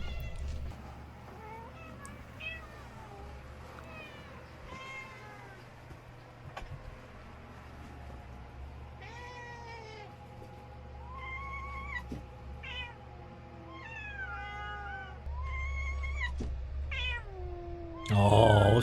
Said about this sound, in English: It's a very small cat.